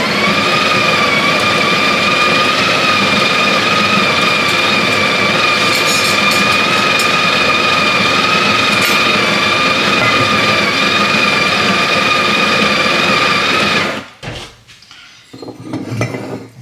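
A Sage Barista Express grinds coffee beans into its portafilter with a loud, steady motor whir that runs unbroken for about fourteen seconds, then cuts off, leaving a few soft clicks and rustles.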